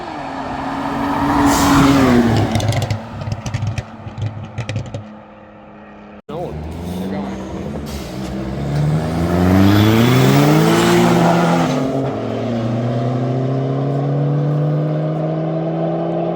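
A turbocharged 2JZ engine in a Toyota Supra revs hard and loud, climbing and falling through several sweeps with a brief cut partway, then holding a steady drone.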